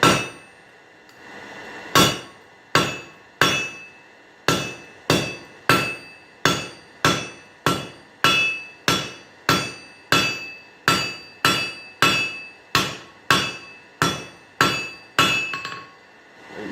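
Repeated sharp hammer strikes on hot steel being forged into a leaf, ringing out at a steady rhythm, about twenty clanging blows, each with a bright metallic ring that fades before the next.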